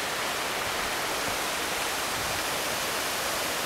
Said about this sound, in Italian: Eccola lì la cascata.